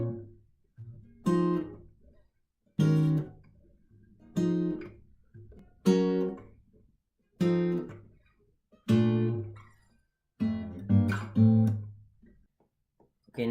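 Acoustic guitar slowly plays the verse of a song, a string of separate plucked chords and notes, each struck and left to ring before the next, close and fairly soft with no voice.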